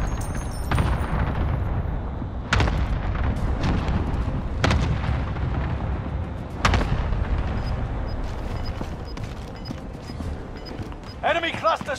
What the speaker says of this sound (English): Enemy cluster strike! Watch your heads!